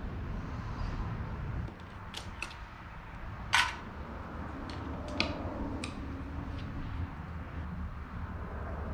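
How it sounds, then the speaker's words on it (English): A few sharp camera shutter clicks, spaced irregularly, taken of an old carburetor from an abandoned mini truck box van, faint against a steady low hum of background noise. "Never a bad idea to take pictures of carburetors before you disassemble."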